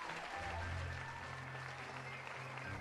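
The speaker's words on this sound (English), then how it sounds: "The townspeople watched the entire scene and cheered, applauding the Pied Piper" Fairytale townspeople of Hamelin cheer and applaud in a short, steady burst of crowd clapping, fairly quiet and even throughout, with no distinct voices.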